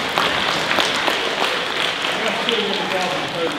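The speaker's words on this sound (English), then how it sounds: "But give him a round of applause now and bring up Mr. Harwin." An audience gives a round of applause at a magic show, producing a dense, steady wash of clapping at moderate distance that fills the whole stretch without pause.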